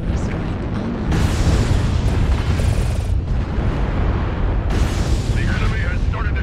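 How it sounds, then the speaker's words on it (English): Artillery strike explosions in a video game build into heavy, continuous rumbling blasts with repeated loud surges, close and booming throughout. "New target acquired. Artillery strike online."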